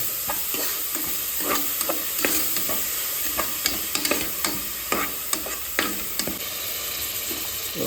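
Ginger paste fries in a pan for a simple chicken curry, giving an even, close sizzle under repeated sharp scrapes and clacks of a utensil stirring it, with no one speaking.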